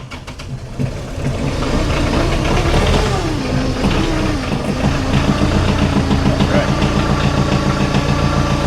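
Engine idling steadily after a rough cold start during deep winter snow in Lewis County, New York, a continuous loud low rumble with a slight wavering pitch that settles into an even drone.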